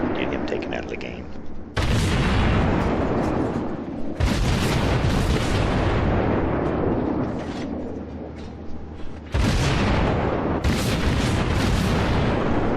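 Cruiser Murmansk firing its guns in World of Warships, several heavy booming salvos at intervals, loud and close, with someone talking over the battle noise.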